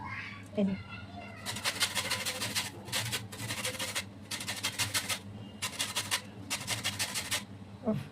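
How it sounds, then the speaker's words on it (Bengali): Lemon zest is grated over a katla fish malai curry in a kitchen, producing several bursts of rhythmic scratchy rasping strokes, close and fairly clear between pauses. "আমি এবার এই লেবুটা আরেকটু উপর দিয়ে ঘষে দেবো।"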